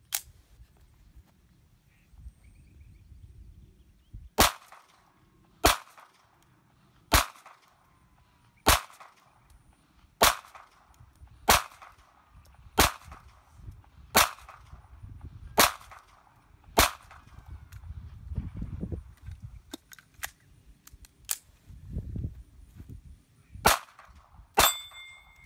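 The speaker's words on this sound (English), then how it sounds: "2245 Mark III, 10 rounds, right plate, then another 10 rounds spread out." A Ruger 22/45 Mark III pistol firing CCI Mini-Mag .22 ammunition at a steel plate target, about a dozen sharp, crisp cracks at an even, unhurried pace over faint background rumble.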